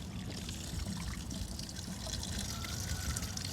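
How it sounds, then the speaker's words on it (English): Water drains from the tilted pump and filter assembly of an above-ground pool being winterized, a continuous close trickling and pouring with a broad splashing wash and no talk. "I'm just gonna drain as much water out of this as I can, the pump and the filter assembly."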